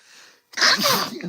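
A single loud, close sneeze bursts out after a brief quiet pause, with a sharp explosive onset and a breathy tail.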